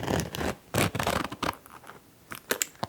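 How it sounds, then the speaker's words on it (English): A small makeup bag's zipper is drawn open with close, crisp scratchy rasps in several quick bursts, heard alone with no talking. "it also has a very convenient little zipper here. So I'm going to open it."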